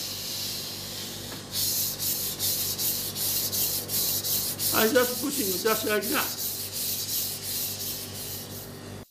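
Repeated rhythmic scraping strokes of a knife blade across a Japanese water stone, close and steady, with someone speaking briefly partway through.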